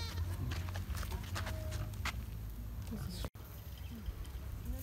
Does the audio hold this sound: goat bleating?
yes